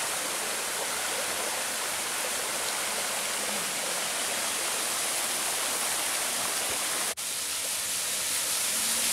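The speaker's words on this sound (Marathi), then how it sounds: "असं सुंदर छान संत असं शांत पाणी वाहत आहे" Calm water flows in a steady, unbroken rush at Lonar, a site with small cascades and holy tanks. It is loud and close, with no voices.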